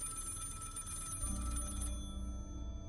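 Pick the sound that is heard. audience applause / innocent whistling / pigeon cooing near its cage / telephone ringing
telephone ringing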